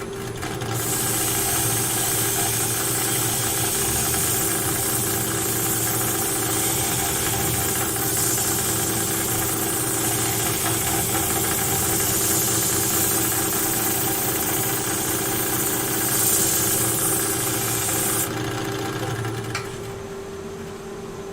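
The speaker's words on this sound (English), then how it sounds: "I'm just using the Simon Oak Pro Sander there on the round bits" Simon Oak Pro power sander running on a turned cherry wood vase, a loud, steady whirring drone with a gritty sanding hiss that holds for about eighteen seconds before easing off.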